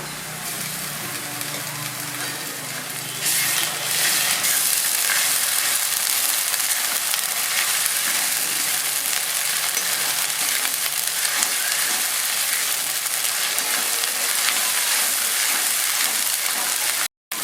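Ginger paste hits hot oil with browned onion and garlic, a loud, steady sizzle of frying that swells sharply after a few seconds and holds close and dense to the end, with brief voices faintly underneath.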